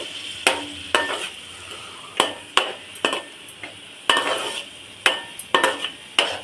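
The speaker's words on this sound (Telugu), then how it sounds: "ఉల్లిపాయ బాగా గోల్డ్ కలర్ వచ్చే వరకు వేగాలి." Onions frying in a pan until golden, stirred with a utensil that clicks and scrapes against the metal in irregular bursts over a soft, steady sizzle. Heard up close, with no talking.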